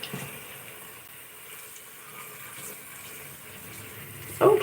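A tap runs with a soft, steady water stream, fairly faint and continuous, ending with a brief louder splash.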